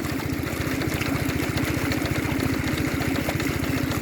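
A water pump engine runs steadily at a shrimp and milkfish pond, giving a loud, fast, even chugging throb with a constant mechanical roar.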